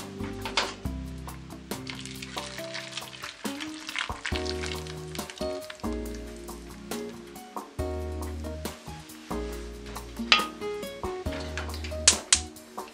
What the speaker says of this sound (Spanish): sobre nuestras papas fritas vamos a vaciar este caldillo